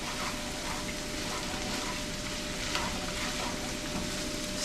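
Sausage and black-eyed pea stew stirred in a skillet, a dense continuous sizzle with soft scraping and bubbling, loud and close throughout.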